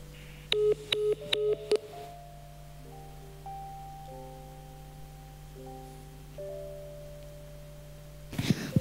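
A telephone beeps through a quick run of dialing tones, then plays a series of steady electronic tones at moderate level before a sharp click at the end, with no voices.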